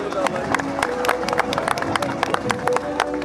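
A large crowd at an Istanbul political gathering claps and cheers as Mayor Ekrem İmamoğlu is called to the podium, sharp claps rising above a continuous roar of applause and babbling voices.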